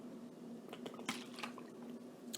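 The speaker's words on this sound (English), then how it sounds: "just taking a sip of water" Water sipped from a cup or bottle at close range: soft wet slurps and a small swallow, faint and brief, with no talking.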